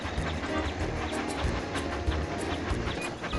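A toy train in a children's mobile game rolls along its tracks with a continuous rumbling, clacking rail sound and a faint hiss, steady and fairly loud with no talk.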